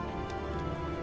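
Acid Rain skill effect from the video game Darkest Dungeon 2, heard as a continuous patter of rain falling on a surface, steady and fairly quiet throughout.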